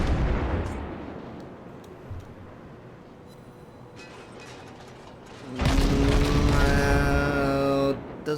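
In a naval battle video game, guns fire on a battleship: a mechanical rumble builds, then a loud, sustained booming salvo bursts out with a ringing metallic whine. Nobody talks.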